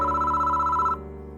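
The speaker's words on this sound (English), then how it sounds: "Why is the phone ringing now?" A telephone rings in the horror game Death Mark 2 (Spirit Hunter), one loud, bright electronic ring held for about a second before cutting off over a low droning background.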